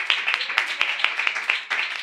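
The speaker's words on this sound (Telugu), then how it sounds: "చప్పట్లు కొట్టి బిగ్గరగా దేవుని నామాన్ని మహిమపడదాం." A church congregation claps hands together in a worship service, a dense, continuous patter of many overlapping claps with regular rhythmic accents, fairly close and loud.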